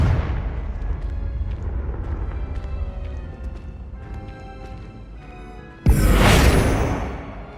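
A Confringo spell explosion in Hogwarts Legacy lands as a sudden loud, booming burst near the end. It breaks through quieter game ambience and fades over about a second.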